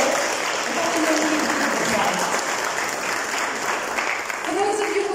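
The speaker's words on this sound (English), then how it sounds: "Please, big round of applause." Sustained audience applause at an HR panel event, a dense, steady wash of clapping lasting several seconds with faint voices mixed in.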